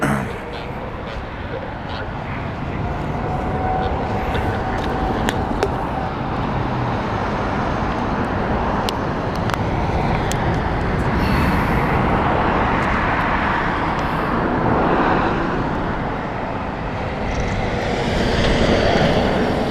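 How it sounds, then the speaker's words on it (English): An ATR 72 turboprop on the Isle of Man flight inbound to Heathrow, a broad steady engine roar that swells gradually, heard at a distance outdoors, with people talking over it throughout. "This is their ATR. It's the Isle of Man flight, ATR 72 inbound."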